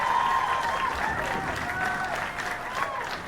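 Crowd applause for the two finalists at a Class B girls state final, sustained and steady through the clip, with an announcer's voice and some shouting faintly audible under the clapping.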